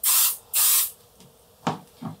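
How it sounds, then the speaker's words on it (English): Aerosol spray adhesive misted lightly over a quilt surface: two close, loud hissing bursts of about half a second each, followed by a few fainter shorter puffs and light handling noises. "you're just going to do a very light spray over the surface of the quilt"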